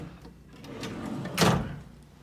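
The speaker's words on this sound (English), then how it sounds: "There's some drawer. Ooh, look at that. Drawers." A drawer in a Bellagio hotel room in Las Vegas slides with a soft scrape and then lands with one short, firmer knock near the end, quiet and close.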